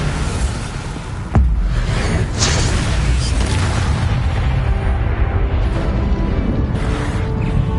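The Bombarda spell in Hogwarts Legacy goes off with one sharp, loud blast, followed by a long rumbling tail under steady background noise.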